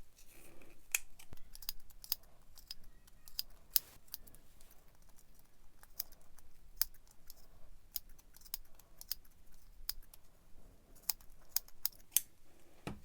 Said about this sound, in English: The sharper your scissors, the better the yarn will cut.